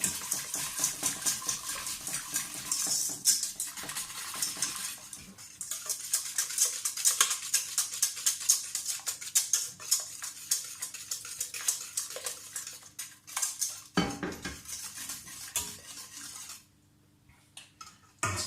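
Utensils clink and scrape against a bowl while ginger cake batter is stirred together, a steady close rhythm of metal taps and wet mixing that fades to quiet near the end.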